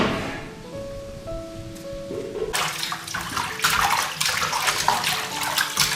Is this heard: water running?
yes